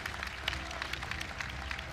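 Fans and guests applaud at an AFC 19 MMA event after the first bout, a steady, dense patter of clapping from a crowd that continues evenly throughout.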